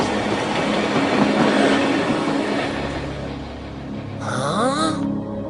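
A train rumbles steadily nearby, with a low mechanical drone and a rising whine near the end, no voices.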